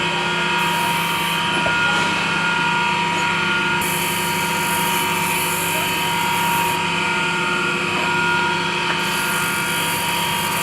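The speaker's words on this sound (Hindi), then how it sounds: "इसको फिनिशिंग किया जाता है ग्राइंडर मशीन से। अब आप देखिए ग्राइंडर कैसे किया जाता है।" A grinder machine finishing slipper soles in a small footwear workshop, a loud steady motor whine with a constant hum that rises and falls slightly as the sole is pressed, running throughout.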